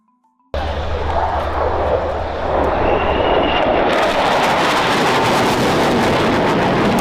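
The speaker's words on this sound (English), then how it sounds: "We start our countdown with a true Cold War icon, the F-4 Phantom II." McDonnell Douglas F-4 Phantom II jet fighter roaring past, a loud, broad engine rush that starts abruptly after a moment of quiet and builds into a harsher, brighter blast toward the end.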